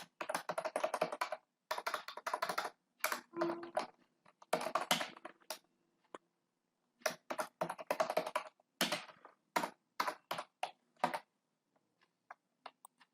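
Close-up typing on a computer keyboard, clusters of quick key clicks broken by short pauses, irregular bursts over several seconds with no talking.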